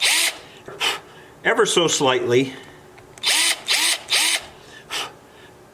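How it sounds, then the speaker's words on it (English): A small wire-gauge drill bit whirs in short repeated bursts while drilling a brad-sized pilot hole part way into a wooden acoustic guitar part for a 12-string dreadnought build, with someone talking briefly between bursts. "And I'm just going to drill"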